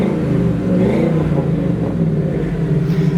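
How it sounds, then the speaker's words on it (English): A 1974 Ford Bronco's 302 EFI V8 revving steadily and close by, a continuous mid-low engine rumble rising slightly without becoming loud. "I'll rev it up a little bit."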